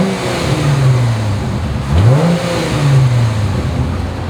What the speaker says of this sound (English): check out the exhaust. I want you to hear this.